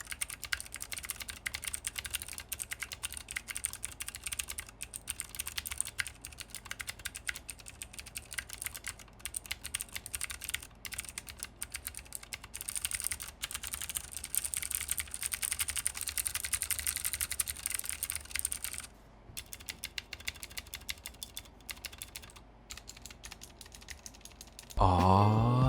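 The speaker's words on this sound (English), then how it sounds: "let's drop a sound test so you guys can hear what this keyboard sounds like." Rapid, steady clacking of typing on a Ducky Mecha SF Radiant mechanical keyboard with blue switches, close and crisp, continuing without talk until a brief pause near the end.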